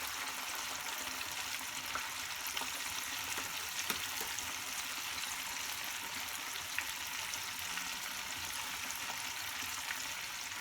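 Steady, soft sizzling and crackling of Korean-style chicken deep frying in hot oil, second fry, continuous and even throughout with occasional small pops.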